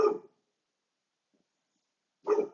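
A dog gives two short barks, one at the start and one near the end, with silence between them. The dog sounds fairly close, and no one speaks.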